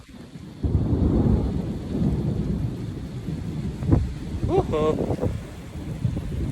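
Thunder rolls over steady rain during an outdoor Midsummer gathering in Estonia, with a loud rumbling crack partway through and a brief exclamation from a person.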